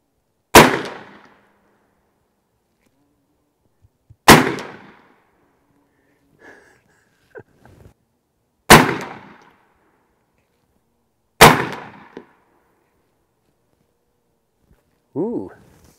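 Four sharp, loud cracks from an AirForce Texan air rifle, each with a brief decaying ring, spaced a few seconds apart outdoors, with faint small clicks and handling sounds between shots.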